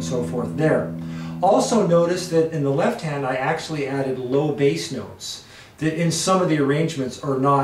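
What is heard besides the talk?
No everyday noise stands out behind the speech.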